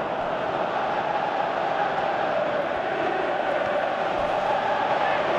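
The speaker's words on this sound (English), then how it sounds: "Crowd appreciates good football all round there." A dense, steady roar of a stadium crowd in the football video game PES 17, during Southampton against Manchester United, a broad continuous wash of cheering voices with no distinct breaks.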